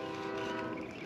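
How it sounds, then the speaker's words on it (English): A train passes in the background near a garden hoop house, with a steady rumble and tonal horn-like drone at moderate level, ending on a brief sharp knock. "Excuse the train in the background."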